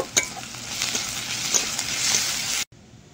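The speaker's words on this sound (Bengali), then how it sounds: "তেলের মধ্যে তেজপাতা দেবো, পেঁয়াজ, এবার থেতো করা রসুন আর কাঁচা লঙ্কা দিয়ে দেবো" Bay leaf, onion, crushed garlic and green chili frying in hot oil, a steady bright sizzle with a few stirring scrapes, close and continuous before cutting off abruptly.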